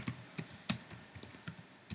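Keys on a computer keyboard clatter in an irregular run of close, crisp clicks with brief pauses between strokes, and no voices.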